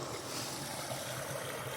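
Water tumbling down a waterfall in an outdoor, snowy landscape, heard as a continuous, even rushing wash with no breaks, moderately loud and alone, with no voices present.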